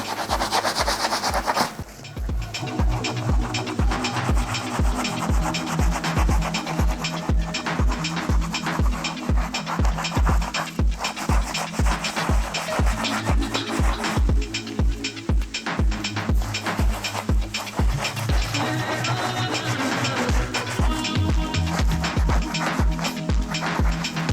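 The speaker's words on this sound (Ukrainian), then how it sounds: "просто-напросто починаємо їх терти, щоб було якнайбільше піни на них" Suede shoes scrubbed with cleaning foam, steady rhythmic rubbing strokes repeating close up for the whole stretch over a continuous tonal background, with no talking.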